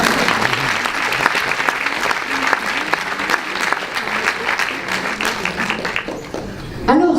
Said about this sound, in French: Et vous pouvez continuer à l'applaudir.